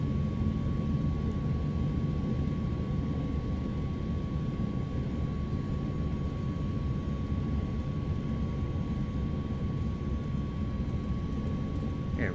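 A DHC-4 Caribou piston engine in Microsoft Flight Simulator 2020, settling from starter and primer toward 800 RPM: a steady, loud droning rumble with a constant tone, unbroken and without talk.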